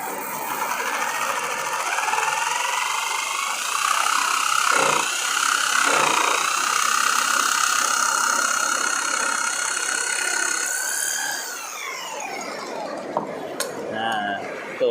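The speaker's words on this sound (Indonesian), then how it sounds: "Coba saya kasih contoh untuk memotong aluminium ya." A machine saw cuts aluminium sheet for a custom motorcycle fuel tank with a steady, close, buzzing whine lasting several seconds before it tapers off and stops.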